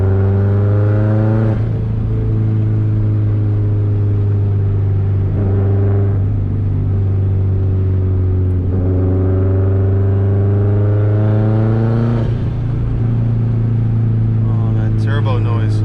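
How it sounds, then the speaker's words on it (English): A 2004 Subaru WRX STI on a night drive, running about 15 psi of boost, gives a loud, continuous engine drone inside the cabin that swells and eases as it repeatedly accelerates, with a brief fluttering whoosh near the end. "Turbo noise."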